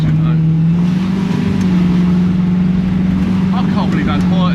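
A BMW E21 fitted with a 5.8-litre Chevy V8 idles quietly up close, a steady low engine drone running evenly throughout with a faint rising whine near the end.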